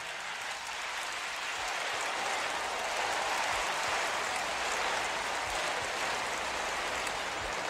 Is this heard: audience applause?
yes